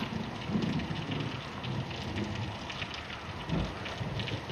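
Heavy rain pours steadily through a cartoon thunderstorm, with low rumbling swells of thunder rolling underneath at a distance; no voices are heard.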